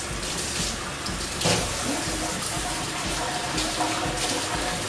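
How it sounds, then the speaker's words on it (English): Tap water runs steadily as meat is rinsed, giving a continuous close splashing hiss with slight changes in flow. "You're gonna rinse that meat off."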